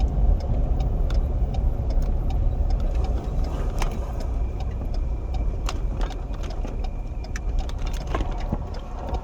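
A Kleberg County Sheriff's patrol car drives and turns around on a 70 mph highway, a steady engine and road rumble heard from inside the cabin with faint ticking over it.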